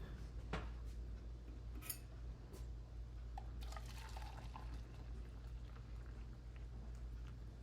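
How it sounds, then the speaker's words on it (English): Very hot water pours into a measuring cup, filling it to the two-cup mark for homemade play dough; a faint, continuous liquid trickle with a few small clinks sounds close by. "So if I fill it all the way to the top, that's 2 cups."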